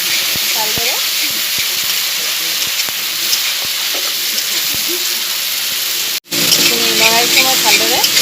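A spice paste sizzles steadily in a hot pan while it is stirred, with scattered scraping clicks and one abrupt break near the end, loud and close, with a voice faintly present underneath.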